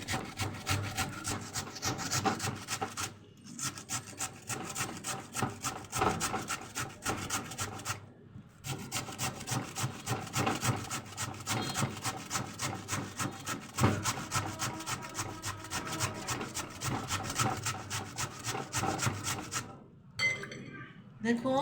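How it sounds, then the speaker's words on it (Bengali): Potatoes grated by hand into a bowl of water, giving a continuous rhythmic rasping scrape with brief pauses between strokes, close and fairly loud. "দেখুন এভাবে সবগুলো আলু আমি কুচি করে নিব।"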